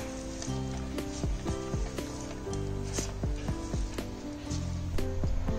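Sevai upma cooking in a pan after the boiled vermicelli has been mixed in, giving a steady soft sizzle with faint scraping and stirring sounds throughout.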